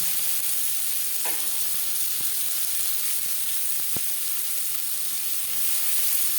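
Chopped onion sizzles steadily in hot oil in a wok after fish has been fried, a constant close hiss with a few soft clicks of stirring and no talk.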